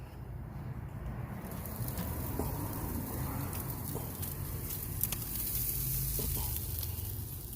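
A tomahawk ribeye steak searing in a hot pan or grill, giving a steady, loud, close sizzle with crackling pops throughout and no talking.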